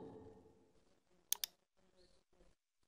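Two quick computer mouse clicks, close and crisp, during drawing in CAD software, set in near silence with faint room noise and low rustling around them.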